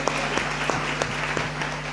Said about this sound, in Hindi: ताली बजा के प्रभु को धन्यवाद दें